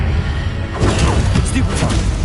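A Stupefy spell cast in Hogwarts Legacy while fighting beasts, heard as a few sharp whooshing bursts and thuds over a steady game din, with a voice speaking over them.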